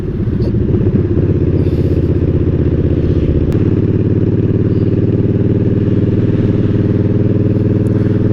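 A motorcycle engine drones loud and close as the bike rides over bumpy ground, with steady rumbling and clattering throughout and a shift in engine note partway through, without any talking.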